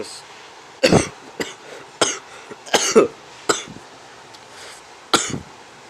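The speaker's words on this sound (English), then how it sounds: "I heard coughing sound effects." A person coughs repeatedly, several sharp separate bursts spaced over a few seconds, close by in a quiet room.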